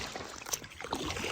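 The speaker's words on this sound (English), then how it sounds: "rowing back to our pots," Small boat rowed by hand through shallow water of a creek, with soft splashing and trickling of oars in the water, steady and fairly quiet without talk.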